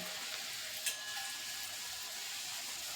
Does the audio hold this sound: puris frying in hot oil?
yes